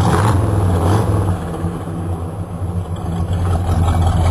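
An older GM car's carbureted engine idles with a low, steady rumble, close and continuous, its loping note holding even throughout.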